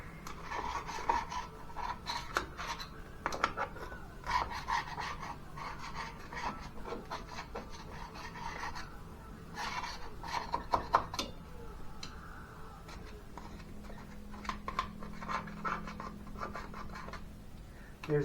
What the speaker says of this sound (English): Fancy screwdriver also doubles as a scraper.